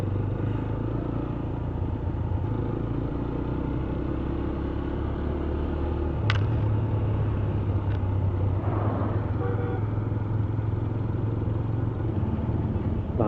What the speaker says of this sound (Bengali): দেখো খালি বাইক বেরোচ্ছে